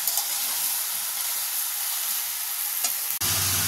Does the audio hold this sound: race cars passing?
no